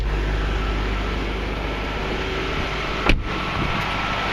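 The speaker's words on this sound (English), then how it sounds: "You can hear the car idles very nicely. Nice smooth idle." A 2003 BMW 745Li engine idling with a steady, smooth low hum, close by and unbroken apart from a single brief click near the end.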